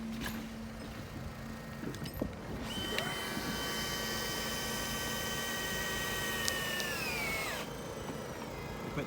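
A power driver whines as it screws log pieces together on a log cabin under construction in Arizona, rising into a steady high-pitched run for several seconds before winding down with a falling pitch, loud and close.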